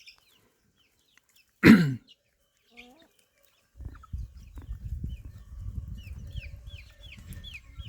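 A chicken in a coop of crossbred hens lets out one loud squawk, followed by faint high peeps and soft clucking over low rustling and shuffling, during feeding in extreme heat.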